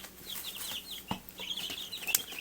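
Twenty-six young French hybrid chicks, a Leghorn and Rhode Island Red cross about two and a half weeks old, peep and chirp continuously in high, overlapping calls, close and moderately loud, with no talking.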